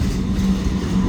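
A freight train rolls past close by with a steady, loud, low rumble and a dense wheel-and-car clatter that continues unbroken throughout.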